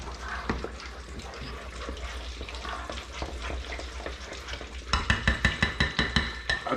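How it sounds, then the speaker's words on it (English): Melted cheese is stirred in a pan with steady scraping and soft sizzling throughout, ending in a sharper run of rhythmic clacking strokes against the pan in the last couple of seconds. "And I'll stir these bad boys up. Got all the cheese melt in there."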